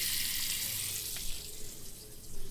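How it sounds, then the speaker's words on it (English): Hot water pours steadily from a tap at a campsite, a continuous close hiss with a slight splashing texture throughout. "Whenever I turn on the water,"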